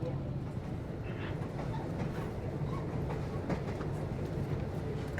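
Kiha 183 diesel excursion train rolling along the old surface line near Bang Sue station in Thailand, a steady rumble with rhythmic rail clicks throughout, moderately loud inside the carriage.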